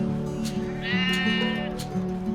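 Sheep on the South Downs bleat a few times close by, including one longer wavering bleat, over a low steady outdoor background.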